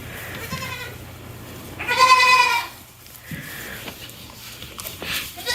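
Goats eating hay let out a loud, clear bleat in the middle, with softer bleats before and after, over a low steady background hum.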